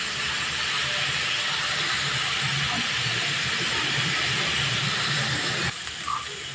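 Bottle gourd frying in a pan over a medium gas flame gives a steady, loud, close sizzle and hiss that runs almost without a break and eases off slightly just before the end.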